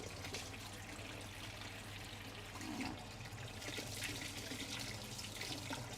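Hot water runs steadily from a kitchen tap in a continuous hissing splash, close and fairly quiet, with a faint low hum underneath.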